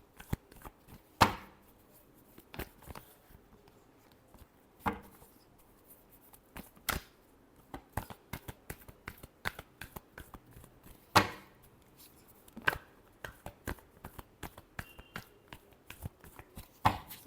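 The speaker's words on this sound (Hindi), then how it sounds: "Last shuffle." Tarot cards being shuffled by hand, a steady run of soft papery riffles and flicks with sharper snaps now and then, close and fairly quiet, with no talking.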